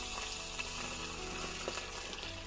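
Oil heating in a small white pot gives off a loud, steady close-up sizzle and crackle with no pauses, the frying hiss dense and continuous throughout.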